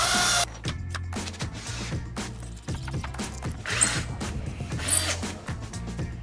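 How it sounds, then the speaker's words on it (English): A hammer drill bores into a concrete block wall with a steady, loud, rattling hammering grind. The pitch shifts as the bit bites, and a brief harsh burst comes at the start. "in order to drive the bit through that wall, we got to use what's called a hammer drill"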